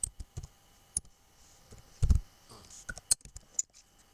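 Scattered keystrokes on a computer keyboard while entering data in an Excel spreadsheet, quiet, close clicks in irregular bursts with brief pauses and no speech.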